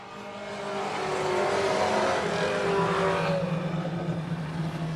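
Four-cylinder pro race cars roar around the oval at Brackett's Market, engines droning loudly and steadily with overlapping pitch sweeps as the pack passes close by, no voices heard.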